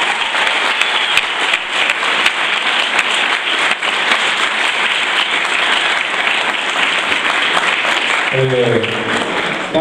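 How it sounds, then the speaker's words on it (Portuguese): Loud, sustained applause from a crowd fills the space, steady throughout, with a voice beginning to speak near the end. "Palmas para eles de novo, obrigado."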